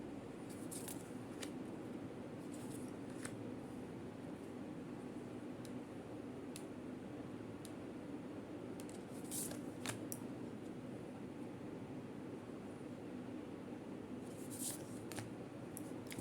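A deck of tarot cards is handled and shuffled, giving scattered crisp riffles and sharp flicks over a quiet, steady room hiss, fairly faint and close.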